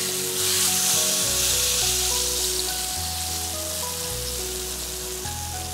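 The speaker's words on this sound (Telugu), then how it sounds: "ఒక్క ఎండుమిర్చి వేసుకుందాం. పోపు కొంచెం ఎర్రబడుతుంది కదా" Tempering for pachi pulusu, with a dried red chilli, sizzles steadily in a pan, a close, constant frying crackle heard alone while soft background music plays beneath.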